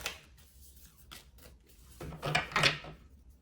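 Tarot cards are shuffled close up, giving soft papery riffles and rubbing, quiet and in short bursts, with a louder flurry toward the end.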